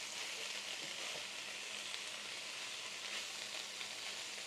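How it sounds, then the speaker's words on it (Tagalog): Garlic and onion sauté in a pan with a steady, close hiss of frying that holds evenly throughout, with no voices over it. "Hinasa ko siya sa bawang sibuyas."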